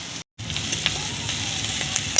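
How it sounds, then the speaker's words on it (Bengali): Vegetables fry in hot oil with a steady, close sizzle after a brief silent gap, with light stirring clicks scattered throughout. "একটু লাল করে নেব, তেলের সঙ্গে ভাজবো।"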